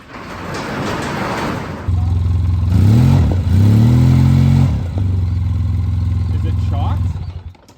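A four-wheeler's engine turns over and catches around two seconds in, then revs up and down a few times before settling into a loud, steady idle close by.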